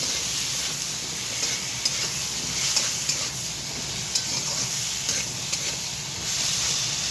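Fish sizzles and fries in a pan with turmeric and salt for a fish curry, a loud, steady hiss and crackle close up, with occasional stirring scrapes and no talking.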